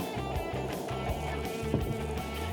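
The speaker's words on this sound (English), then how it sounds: "It sounds like I got a jet engine going here with my grill pan being as hot as it is." Loud, continuous sizzling roar from a very hot grill pan cooking a sandwich, a dense hiss with a low rumbling undertone throughout.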